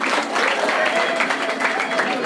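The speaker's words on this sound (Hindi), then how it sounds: "ताली बजा दो इनके लिए" Schoolchildren clapping together at a morning gathering, a dense continuous patter of many hands at moderate distance, holding steady throughout.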